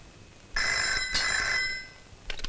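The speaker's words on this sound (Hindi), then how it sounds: "मधु, तुम्हारी माँ जी का फोन।" A telephone rings in a bitter family drama scene, a bright electronic trill sustained for about a second, a second burst, then fading, with brief clicks near the end; no talking.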